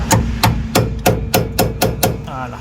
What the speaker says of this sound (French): on prend le marteau. Et on va venir resserrer celui-là à lui.